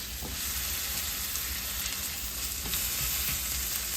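Garlic sizzles steadily in melted butter in a pan, a continuous close frying hiss with a few faint clicks and no talking.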